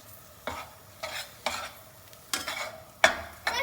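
A spoon stirs almond katli mixture in a pan with ghee, giving repeated scraping strokes at a loose, uneven rhythm over a faint sizzle, close and fairly clear with no voices.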